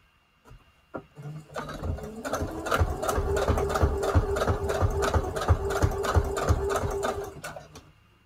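A sewing machine on a long straight stitch sews junk journal tags, starting with a few clicks, then running a steady, close, rhythmic mechanical chatter for several seconds before stopping.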